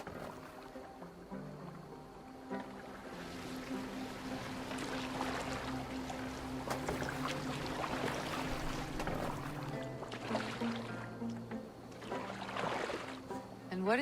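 Boat gliding across water in Assassin's Creed Valhalla, a steady low wash of hull and waves with wind, accompanied by soft game music throughout.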